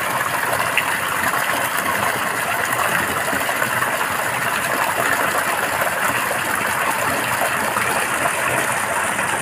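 A 6.5 horsepower water pump engine idles while filling a concrete fish pond for catfish, a steady close droning hum mixed with rushing, gushing water, constant and loud with no talk.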